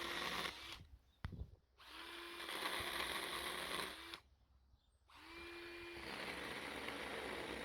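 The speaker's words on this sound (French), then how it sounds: "j'ai choisi de le faire avec ma petite tronçonneuse parce que je l'aime beaucoup" A small chainsaw cuts willow stakes for a living hedge, whining loudly in bursts that bog down as it bites, with two short pauses where it idles or stops before revving and cutting again.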